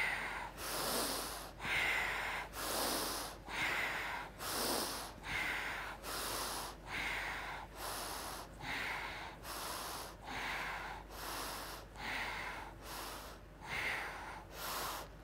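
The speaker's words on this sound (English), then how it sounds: "we breathe through the nose" Steady nasal breathing during a yoga session, each inhale and exhale drawn audibly through the nose in a slow, even rhythm, about a dozen close, airy breaths in a row.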